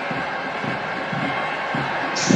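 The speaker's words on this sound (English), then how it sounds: "Viking claps all around." A stadium crowd of football fans at the Santosh Trophy final in Manjeri does the Viking clap, three or four loud unison claps evenly spaced over a steady crowd roar.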